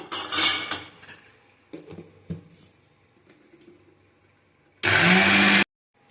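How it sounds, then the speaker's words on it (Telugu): Kitchen clinks and clatter of utensils come first, then a mixer grinder with chillies and drumstick leaves roars in a single short, loud burst and stops abruptly. "ఇప్పుడు మునగాకు కూడా వేస్తున్నాను అన్ని కలిపి మళ్ళీ మిక్సీ పడుతున్నాను"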